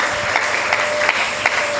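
A church congregation applauds to acclaim the Lord in a steady, dense round of clapping from a crowd that carries through the whole brief moment, with no spoken words.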